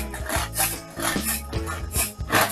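Garlic being ground for lumpiang shanghai, heard as close, rhythmic rasping strokes repeating about twice per second.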